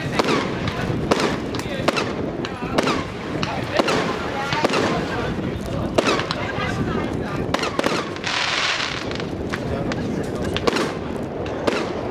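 A small 36-shot, 30 mm fireworks cake fires a rapid string of shots, sharp cracks and pops following one another densely, with crackling bursts layered throughout.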